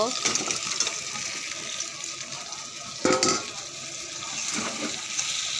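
Fish pieces hit a pan of spice-fried potatoes with a wet, hissing sizzle that flares briefly midway, steady frying throughout and faint background noise.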